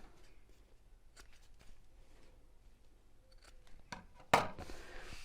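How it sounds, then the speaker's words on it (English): Fabric scissors trim overlong binding on sewn oven gloves in a quiet room, ending in one sharp, close snip after faint handling rustles. "let's just trim off the binding, which was a little bit too long"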